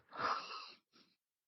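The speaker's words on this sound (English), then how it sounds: "God forbid he had a sneeze" One sharp, breathy sneeze bursts out close to the listener, followed by a brief softer exhale.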